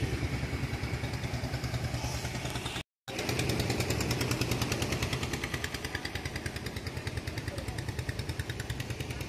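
A motor launch ferry boat runs its engine at the Budge Budge ferry ghat, a steady close chugging throb with rapid regular pulses that continues throughout apart from one brief break.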